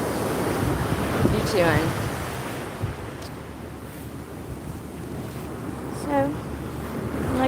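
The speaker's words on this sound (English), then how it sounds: "Waves are slowly starting to pick up, but not to the point where any surfers are out or anything." Ocean waves breaking on a beach as steady surf and wind rush, heard from a walk along the shore while someone talks over it.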